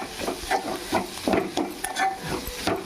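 Coarsely pounded ginger garlic paste fries in hot oil in a pan while a spoon stirs it. The stirring gives rhythmic scraping and clinking over a soft, steady sizzle, close by and moderately loud.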